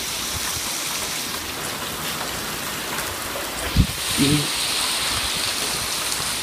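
Steady rain during a violent windy thunderstorm in Montoison, France, hisses and patters continuously on surfaces, with a brief spoken word partway through.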